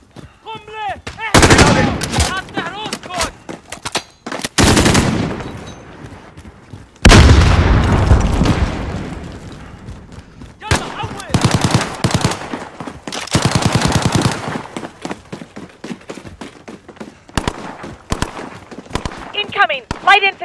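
Rapid automatic gunfire and explosive bursts from the Call of Duty Modern Warfare video game, loud and repeated in clusters, with shouted voices in between.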